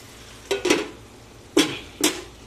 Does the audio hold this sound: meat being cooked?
yes